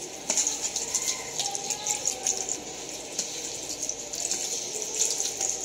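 Running tap water splashes steadily into a sink while sweet potatoes and saluyot leaves are rinsed of sand, a close, continuous hiss with small irregular splashes and faint bird chirps behind.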